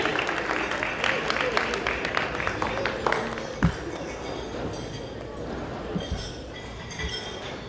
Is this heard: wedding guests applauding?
yes